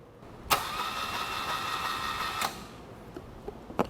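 An old BMW airhead motorcycle engine being turned over by the starter, a steady mechanical whirring churn for about two seconds before cutting off, followed by a few faint clicks, close with no talk.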